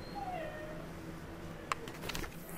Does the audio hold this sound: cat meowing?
yes